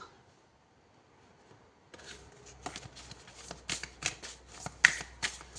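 Tarot cards shuffled and handled close by, a quiet pause first, then a run of crisp riffling snaps and card slaps that grow louder toward the end.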